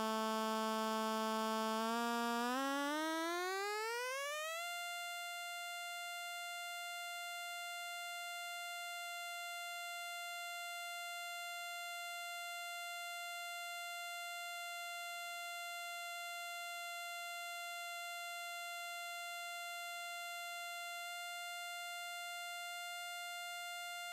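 A steady 700 Hz test tone from a signal generator, run through classic guitar fuzz and overdrive pedals, glides up from a lower pitch and then holds loud and constant, with brief warbling wobbles partway through.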